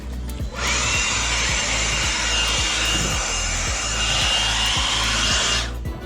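A plunge saw cuts through composite decking in one continuous pass, a loud close whine and rasp that starts sharply, holds steady for about five seconds and then stops.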